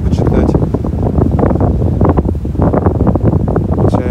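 Strong wind buffets a phone microphone in continuous rough gusts on a cold walk, loud and close, with a voice faintly talking underneath.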